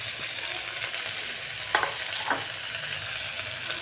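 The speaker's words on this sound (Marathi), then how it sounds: "आता यामध्ये आपल्याला एक एक करून भाज्या टाकून घ्यायचे आहेत।" Vegetables and green chilli fry in spices in a pan for a vegetable biryani, a steady soft sizzle with two brief scraping stirs midway.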